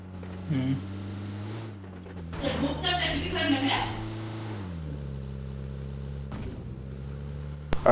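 A car engine hums steadily in PUBG Mobile gameplay, its pitch rising and falling as the vehicle drives toward a bot, while someone talks over it.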